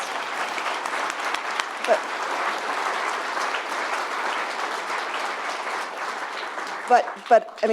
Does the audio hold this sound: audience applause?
yes